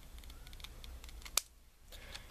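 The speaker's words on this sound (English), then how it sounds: "Let me see if my regular paper scissors will do the trick" A single crisp snip of paper scissors cuts through laminated paper, a sharp isolated click against a quiet background.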